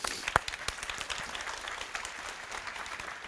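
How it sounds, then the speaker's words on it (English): An audience gives Mina a short round of applause, led by one sharp close clap and followed by a soft, scattered patter of hands that fades quickly. "A round of applause for Mina again."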